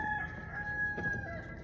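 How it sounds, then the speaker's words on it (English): Farm chickens, including a broody hen, with a rooster crowing a sustained call over nearby clucking and scratchy flock noise, moderately close and continuous. "She's tormented by these chickens."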